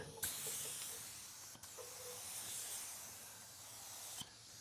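Spray can dusting a light coat of plastic primer onto a headlight, a steady faint hiss running continuously with brief clicks at the start and near the end.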